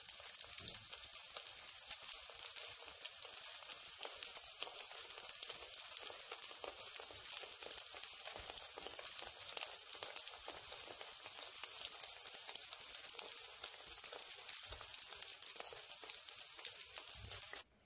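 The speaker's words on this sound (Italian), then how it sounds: "continuiamo esattamente allo stesso modo fino a friggerli tutti." Gnocco fritto dough, an Emilia-Romagna specialty, fries in hot oil with a steady, dense crackling sizzle that stays even and close for the whole stretch, with no talking.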